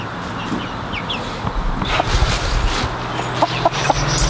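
Hens cluck steadily and close by in a homestead tractor pen, with overlapping calls and soft rustling throughout, no talk.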